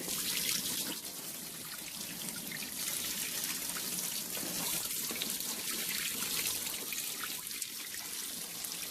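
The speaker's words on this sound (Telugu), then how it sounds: "ట్యాప్ వాటర్ కొంచెం ప్రెషర్గా ఉంటే చాలు" Tap water runs steadily and splashes onto mats close by, a continuous hissing gush with no voices.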